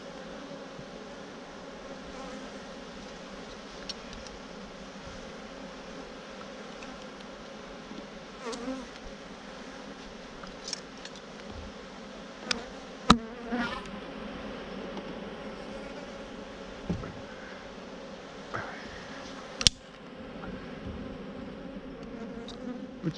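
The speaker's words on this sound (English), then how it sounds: "I got bees trying to sting me, right?" Honeybees swarm around an opened beehive in a farm bee yard, a dense, constant buzz with occasional louder passes of single bees close to the microphone, and no one speaking.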